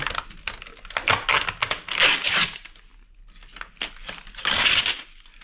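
Tape being peeled and pulled off a circuit board inside a POS machine, close crinkly tearing and crackling in bursts, with a quiet pause midway before a final loud rip.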